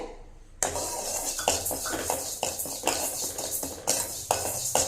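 Moong dal drops into a kadai for roasting and is stirred with a metal spoon, giving repeated close scraping and clinking strokes in a steady rhythm after a quiet start.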